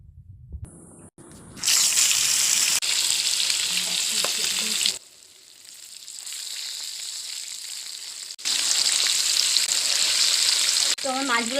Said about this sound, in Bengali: নিয়ে একটা একটা করে মাছ দিয়ে আমি ভালো করে উল্টে পাল্টে ভেজে নেব।